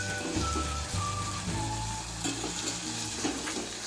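Green peas frying and being stirred in a hot pan for a Maharashtrian potato-pea curry, with a steady close sizzle and crackle throughout and occasional scraping as they are tossed.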